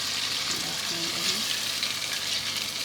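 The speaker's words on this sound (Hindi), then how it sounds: "देखिए मसाला हमारा भुन रहा है" Spice paste sizzles and crackles steadily in a hot pan, a close, continuous frying hiss with faint stirring.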